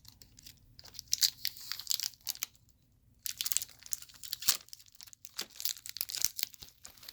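Tape peeled and tugged off the rubber hose of a 2004 Dyson DC14 Low Reach vacuum, a series of close, crackly tearing and crinkling bursts with a short pause in the middle.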